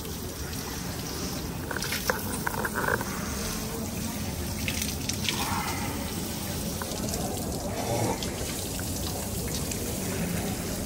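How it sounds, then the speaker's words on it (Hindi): Water runs steadily from a washroom tap while someone washes their face. The stream is continuous, near and moderately loud, with a light splashing texture and faint voices in the background. "यहाँ पर जाके अपना मुंह धोऊंगा, थोड़ा सा पानी डालूंगा सर पे"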